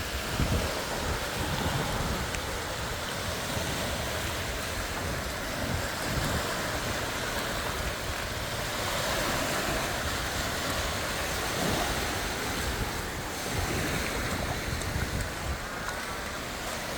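Waves and wind at Sauble Beach, a continuous broadband roar of surf mixed with gusting wind buffeting the microphone, steady and loud throughout with no voices.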